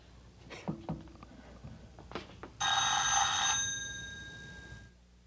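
A telephone bell rings once in a steady metallic burst for about a second inside a home, trailing into a fading ring, after a few soft knocks and footsteps in an otherwise quiet room.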